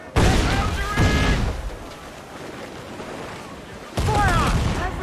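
Ship cannons fire during naval combat in the video game Assassin's Creed IV: Black Flag. Two heavy booming volleys land near, one at the start and one near the end, with a rumbling lull and crew voices shouting between them.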